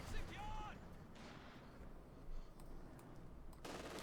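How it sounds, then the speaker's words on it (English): Cannon fire and distant battle noise in Company of Heroes 2, a World War II strategy game, with booming shots and rumbling blasts spread across the clip under a commentator's voice. "Another cannon from there"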